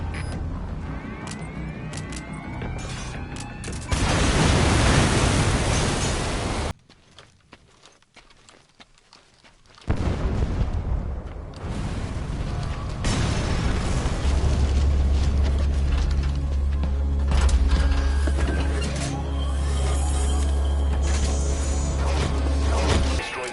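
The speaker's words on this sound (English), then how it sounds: "Secure the area before you detonate the C4." A C4 charge detonating and destroying a separator tank in Metal Gear Solid V: The Phantom Pain, a loud burst followed by a sudden drop to near silence, then rumbling debris and a sustained low drone with mechanical clatter.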